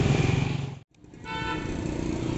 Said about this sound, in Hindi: बाइक हो गई है स्टार्ट